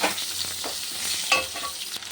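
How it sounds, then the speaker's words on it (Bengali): Potatoes fry in a pan with a soft, steady sizzle and occasional stirring scrapes, close by and fairly quiet, with no talking. "আলুটা ভেজে নিই"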